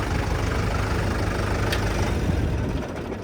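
A small semi tractor truck engine idles close by, a loud, continuous low rumble with no voices, fading slightly at the end.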